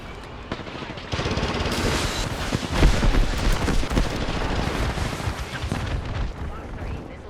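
Triple Take marksman rifle shots in Apex Legends, heavy booming reports amid a busy, loud battle soundscape with explosions and rumble, voices faintly mixed in.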